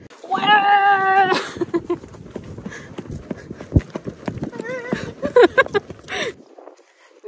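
Horse hooves clip-clop in a quick trotting rhythm along a firm countryside trail, close and fairly loud, mixed with harness noises and breathy animal sounds.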